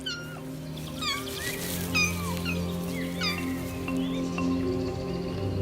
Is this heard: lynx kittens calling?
yes